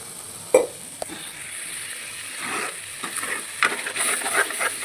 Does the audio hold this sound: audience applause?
no